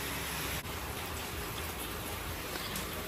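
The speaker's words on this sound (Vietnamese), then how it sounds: "Vừa ăn vừa thưởng thức mưa rừng." Steady, heavy rain pours down in a forest in a continuous close hiss, with no voices and only a brief dip in the constant wash.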